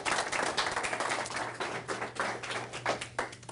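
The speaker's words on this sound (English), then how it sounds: "Applause for them." A small audience claps, an irregular patter of hand claps close by with a low steady hum underneath, fading and swelling over a few seconds.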